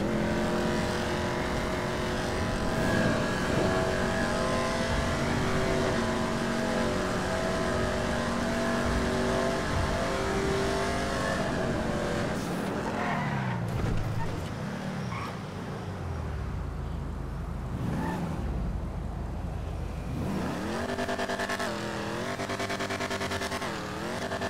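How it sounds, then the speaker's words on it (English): The Phoenix muscle car in GTA Online revs and accelerates with a throaty growl, rising through gears and squealing its tires, then winds up again near the end, loud and close with no talk. "So the Phoenix has got a really nice growl to its engine"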